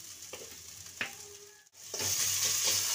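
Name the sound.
turmeric and chili powder frying in oil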